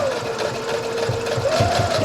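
A sewing machine runs in a steady, moderately loud whirring hum with a slight rise in pitch near the end, stitching a patch pocket with a flap.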